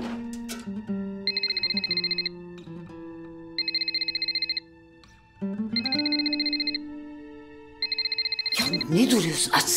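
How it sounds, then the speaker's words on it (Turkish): A telephone rings in a Turkish TV drama scene, four evenly spaced bursts of a high electronic warble separated by short pauses, over a quiet indoor background, with a noisy clatter at the end. "Açsana şu telefonu."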